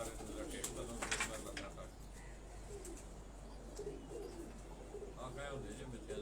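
Pigeons coo softly in a loft, small fancy birds with varied feather colours, their low cooing mixed with scattered chirps under steady nearby talk and a constant low hum.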